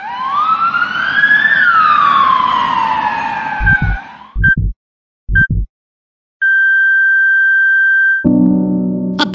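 An ambulance siren wails with a loud sweeping tone, then breaks into short bursts and a steady held tone, close and alone with no talk.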